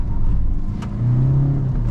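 A 2025 Kia Carens Clavis diesel with a manual gearbox picks up speed, its engine note rising into a steady low drone that swells after a brief dip midway, heard close from inside the cabin with no talking.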